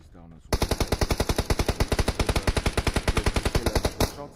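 Rapid automatic gunfire in a shooter video game, a long, even, loud burst of evenly spaced shots lasting about three and a half seconds before cutting off.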